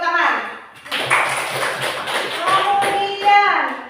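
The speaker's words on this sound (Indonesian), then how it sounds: "Kasih tepuk tangan." Children clap together in a classroom, with a burst of uneven claps and taps starting about a second in and continuing under a teacher's voice and kids talking.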